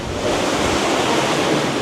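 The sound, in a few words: sea waves beneath a seaside spot in Cyprus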